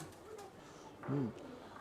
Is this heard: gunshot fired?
no